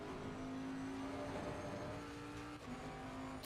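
A race car engine in a sim racing game during practice for the 24 Hours of Kyalami drones at high revs in a steady, sustained tone with a brief dip near the end, with no talking.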